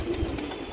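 A pigeon gives a short, low, soft coo, heard close and alone.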